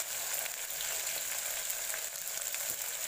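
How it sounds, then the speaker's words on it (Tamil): Green chillies and curry leaves sauté in hot oil for Tamil Nadu style fish biryani, a close, continuous crackling sizzle with faint stirring. "ஒரு 4 பச்சை மிளகாய், கருவேப்பிலை, இது 3ஐயும் போட்டு நல்லா வதக்கி விட்டுக்கோங்க."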